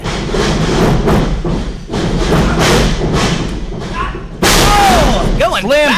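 A wrestler is slammed hard onto the back of his head during a live match, a heavy thud buried in loud, continuous crowd noise and commentary, followed by a sudden surge of cheering with whistles.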